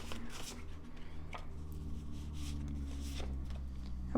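Tarot message cards being shuffled by hand, a run of soft papery riffles and slides close by, steady and continuous over low background hum.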